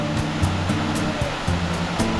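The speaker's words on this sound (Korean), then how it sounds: "이렇게 봐줘도 무명폭포입니다" Unnamed waterfall on Bukhansan after heavy rain, a constant roaring rush of falling water close by, with a low rhythmic mechanical hum pulsing underneath.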